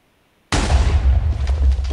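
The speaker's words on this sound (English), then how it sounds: "An explosion. Yeah, that was me." An explosion in Minecraft goes off suddenly after a short silence, a loud close boom with a deep rumbling tail that keeps crackling and rolling for over a second.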